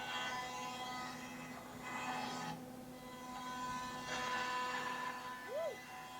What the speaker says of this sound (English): you have to keep pushing it through until it makes the sound the whole way through